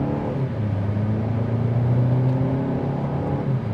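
BMW 228i engine under throttle in sport mode, a steady close drone and rising whir from inside the cabin, moderately loud and continuous with no talking.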